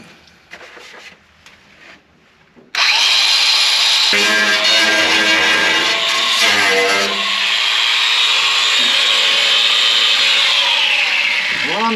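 A power tool whines steadily as it cuts out a sheet-metal floor section of a Model A firewall, a loud, close, sustained grinding after a few quieter handling sounds, with pitch shifts as the cut proceeds.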